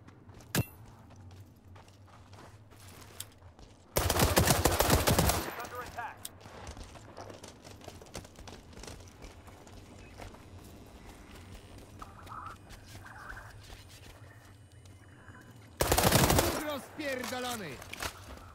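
Two loud bursts of automatic gunfire in the World War 3 video game, each about a second long and separated by quieter ambient battlefield noise, with occasional faint shots.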